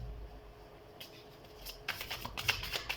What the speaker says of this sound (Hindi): सो हम कार्ड शफल कर देते हैं